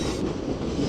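Sapphire Odoriko limited express train passing at Ueno Station, a brief burst of heavy low rumbling and rolling wheel noise close by.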